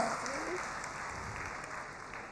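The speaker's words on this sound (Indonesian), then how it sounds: "kasih tepuk tangan buat Tuhan" Soft, continuous applause from a church congregation during an Indonesian sermon, clapping in praise to God. It is fairly quiet and slowly fades over a couple of seconds.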